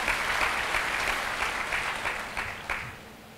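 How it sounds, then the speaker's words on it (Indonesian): A church congregation claps together in sustained applause, dense and even, gradually tapering off toward the end with no voices over it. "Kasih tepuk tangan kepada Tuhan."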